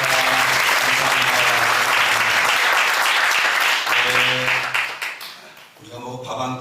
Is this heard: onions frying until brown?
no